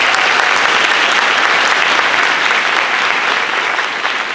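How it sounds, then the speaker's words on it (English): Audience at a charter high school graduation ceremony applauds the parents, a loud, dense, even burst of clapping from a large crowd that holds steady and eases slightly at the end. "Let's give the parents another round of applause."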